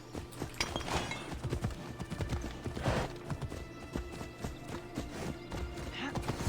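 Horse hooves clop in a steady rhythm amid busy Assassin's Creed Odyssey game sounds, with a brief whinny and some voices underneath.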